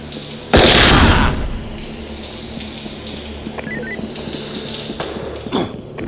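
A bomb goes off in the SWAT 4 tactical shooter game: one loud, close blast near the start, with a roar that fades over about a second, then low game ambience and a few faint pops and clicks.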